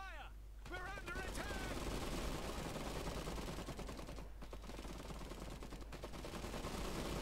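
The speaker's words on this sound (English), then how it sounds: "Open fire." Gunfire from the Iron Harvest game: a dense, continuous barrage of rapid machine-gun bursts and scattered shots, loud and close throughout, with a short voice heard at the very start.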